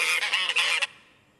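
A goose honks in a rapid run of loud, close, nasal calls lasting under a second before fading into quiet.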